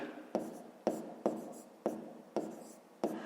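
A pen scratches across paper while working out a fifth-grade maths exercise, with six crisp strokes or taps spaced about half a second apart, each trailing off into soft scratching, close and fairly quiet with no voices.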